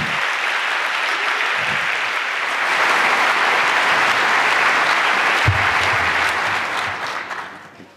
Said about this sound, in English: Please welcome, with an anniversary edition applause, Chris Galinsky.